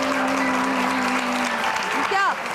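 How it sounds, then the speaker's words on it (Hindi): Audience applause in a television studio show, a steady wash of clapping heard beneath a speaking voice that continues throughout, fairly loud and close. "तो तालियां बजाते, अच्छी लगी बात"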